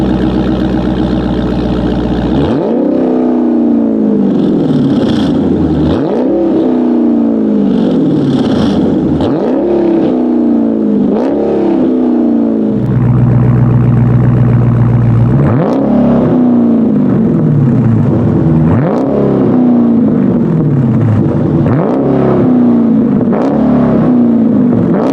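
Dodge Charger or Challenger V8 with an aftermarket stainless exhaust system revving repeatedly, each blip rising and falling in a regular cycle over a loud, rumbling idle.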